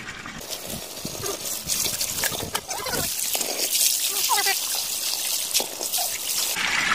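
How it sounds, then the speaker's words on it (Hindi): Cold mountain spring water trickling at the Karlan picnic spot near Abbottabad, a continuous close splashing and gurgling stream with small drips, while someone talks over it. "बहुत ही प्यारा और बहुत ही मीठा और बहुत ही ठंडा चश्मा मिला है"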